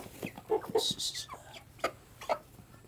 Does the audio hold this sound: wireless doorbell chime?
no